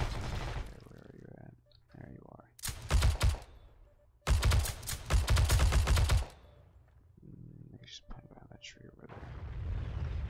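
Gunfire from a C96 pistol in the video game Heroes & Generals comes in two rapid bursts, the second longer and louder, separated by quieter stretches where someone talks.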